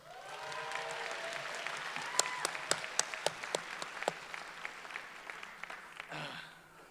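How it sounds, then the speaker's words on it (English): A crowd at a Berkeley City College graduation ceremony applauds steadily, a wash of many hands clapping with a few louder claps near the front, tapering off toward the end. "Give yourselves a big round of applause."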